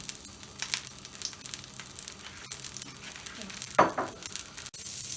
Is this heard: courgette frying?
yes